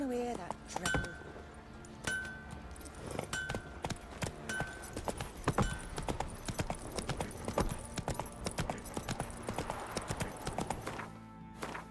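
Roach, Geralt's horse in The Witcher 3: Wild Hunt, walks with a steady, evenly spaced clip-clop of hooves and light clinks of tack, heard up close.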